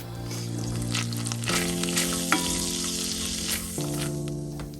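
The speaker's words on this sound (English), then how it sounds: "I'm going to add some cumin and some dried oregano to the hot oil and allow it to bloom." Cumin and dried oregano bloom in hot oil for beef barbacoa, a bright, close, constant sizzle with scattered crackles and a few sharper spits.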